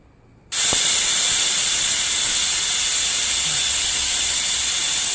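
A pressure cooker cooking mutton curry bursts into a loud, continuous steam hiss that starts abruptly and holds steady and close at full force until the end.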